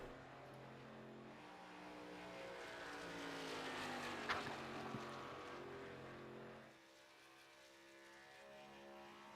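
An ARCA race car on a qualifying flying lap, its engine droning and rising in pitch through the gears, then dropping away sharply near the end, heard from a distance and fairly faint.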